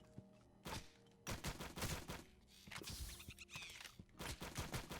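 The Planky McBang Bang, a weapon in a video game, fires repeatedly in dense volleys of bangs. The volleys come in bursts separated by short gaps, at a fairly low overall level, with some whistling effects between shots.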